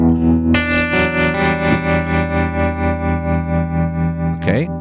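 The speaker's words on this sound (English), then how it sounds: "I create a scene tremolo." A distorted electric guitar chord sustains through a tremolo scene effect on a Fractal FM3/FM9 amp modeler. Its volume pulses in a steady, even rhythm, and the chord is loud and alone until a brief squeal at the end.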